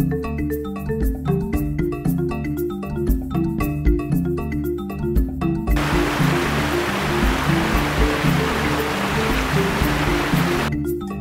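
Flowing stream water where people bathe near a typical African home, a steady broadband rush that swells up in the middle of the stretch over a continuous rhythmic background, with no talking.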